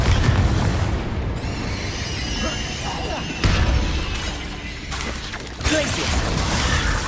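Confringo explosion spells cast during combat in the video game Hogwarts Legacy, booming blasts and crackling bursts over dense, loud game noise, with sudden impacts recurring every few seconds.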